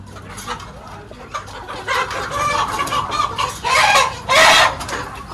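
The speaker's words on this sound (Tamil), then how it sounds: "இது குட்டி கோழி" Young fighting rooster, a native country chicken, clucks in a few short bursts that grow louder toward the end, close by against busy outdoor background noise.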